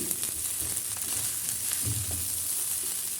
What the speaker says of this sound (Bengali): ডিমগুলো দিয়ে একটু নাড়াচাড়া করে নেব